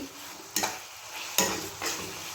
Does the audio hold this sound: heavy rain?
no